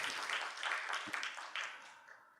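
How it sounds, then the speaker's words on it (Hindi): Audience applause at the inaugural session of a youth training program, a crowd of hands clapping that swells and then fades toward the end. "जोरदार तालियां बजाएंगे अच्छी तरह से।"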